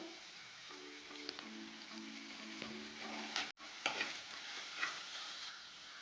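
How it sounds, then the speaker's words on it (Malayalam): Onions sautéing in a pan for a taro-leaf curry, a faint steady sizzle with light spoon scrapes and a few clinks against the pan, quiet and close. "സവോള അധികം വഴട്ടേണ്ട ആവശ്യമില്ല സവോള ഒന്ന് വെന്ത് വരട്ടെ"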